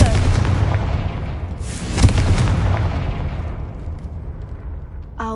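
A Confringo fire-blast spell cast in a Hogwarts video game, a loud rumbling explosive boom with a sharp peak partway through, then a long roaring decay that fades out.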